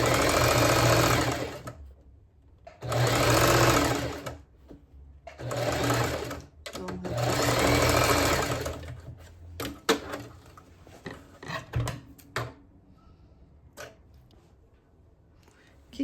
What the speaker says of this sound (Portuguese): vou cortar e vou finalizar minha costura